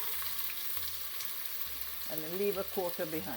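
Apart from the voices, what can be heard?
onions frying in hot oil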